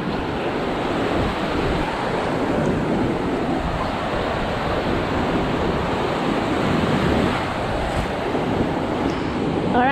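Strong ocean surf rolls and crashes steadily at Carolina Beach. Heavy wind buffets the microphone the whole time, with no one speaking.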